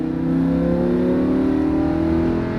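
Lamborghini Huracan engine on a race track pulling hard under rising throttle, a loud, steady mid-pitched roar with a slowly climbing tone that holds strong and close throughout.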